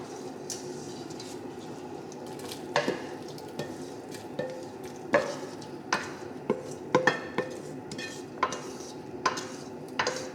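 Marinade vegetables tipped into oxtails boiling in a Dutch oven, with repeated clinks and scrapes of a spoon against the pot and a soft bubbling, sizzling bed underneath, close and moderately loud.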